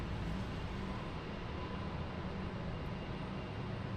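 Steady broadband roar of an airplane arriving at Raleigh-Durham International Airport, a continuous engine rush holding even and moderately loud over the full stretch.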